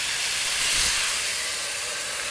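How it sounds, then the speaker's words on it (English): Water is poured into a hot pan with brisket fat and avocado oil, bursting into a loud close hiss of steam that swells then settles into a steady sizzle. "we'll just pour just a little bit of water in here just to get a nice steam"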